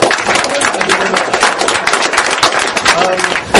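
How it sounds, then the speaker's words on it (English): An audience applauding at a political meeting: dense, loud, continuous clapping from a crowd, steady throughout and close to the listener. "Round of applause for those people who've been out."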